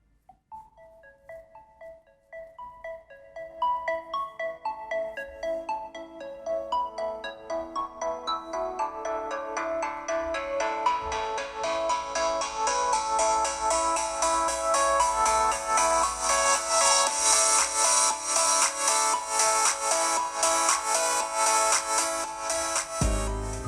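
A melodic ringtone plays from the single bottom speaker of a Hisense A5 Pro CC e-ink phone, starting as sparse notes and building into a dense, bright, steady loop.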